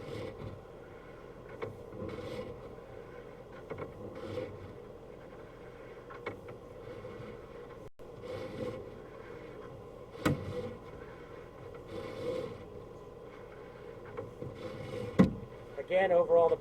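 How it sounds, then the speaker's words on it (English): An air conditioner unit nearby runs with a steady low mechanical hum and drone beside a pipe inspection site, faint and continuous with occasional knocks and clicks. "That is the air conditioner that is next to me that just kicked on."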